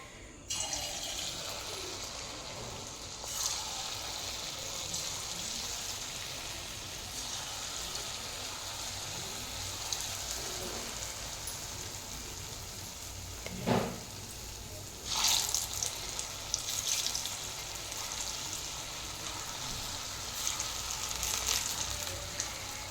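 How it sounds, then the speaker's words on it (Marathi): Small red pumpkin fritters fry in hot oil in a kadai with a steady, close hiss that runs the whole time, flaring into brief louder bursts now and then. "कढईमध्ये तेल गरम करून घेतलेलं आहे। आपण आता हे बारीक छोटे छोटे भज्जे बनवून घेऊ।"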